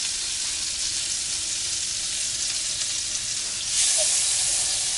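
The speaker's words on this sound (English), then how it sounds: "So we're gonna let that start to melt." Butter sizzles and crackles steadily as it melts in a hot pan, a loud even hiss that swells a little toward the end, with no voices.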